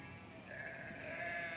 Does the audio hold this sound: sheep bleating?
yes